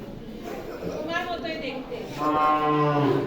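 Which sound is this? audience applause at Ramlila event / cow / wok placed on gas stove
cow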